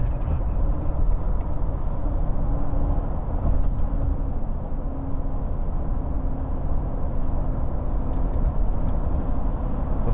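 A 2015 Nissan Navara 2.5 dCi pickup cruising at 70 mph around 2,200 rpm, giving a steady, continuous low road and engine drone from inside the cab with no talk.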